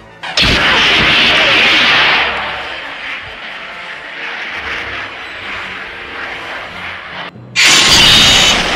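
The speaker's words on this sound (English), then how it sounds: "Captain Newdell, the turbo laser's ready for you." A turbo laser cannon in a Lego Star Wars animation fires a loud blast that rolls into a long rumbling roar, fading slightly before a second sharp burst near the end.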